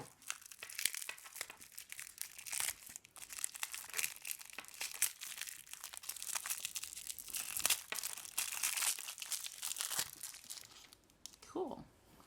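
Washi tape packaging being stabbed open and crinkled, a steady stream of close plastic crackling and tearing over about twelve seconds, with a brief faint voice near the end.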